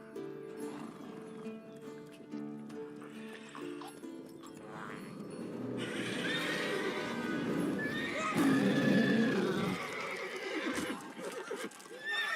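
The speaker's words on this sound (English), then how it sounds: "Whoa there, Roach" Roach, Geralt's horse in The Witcher 3: Wild Hunt, neighing loudly and close over game music and ambience, then snorting and stamping with hoof clops amid rising ambient noise.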